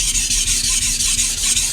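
Knife drawn repeatedly across an Altstone Fukami whetstone, a close, loud, gritty chalky rasp in quick back-and-forth strokes, about seven passes in under two seconds.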